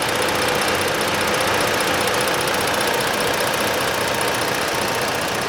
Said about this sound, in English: The vehicle has been sitting here on idle quite some time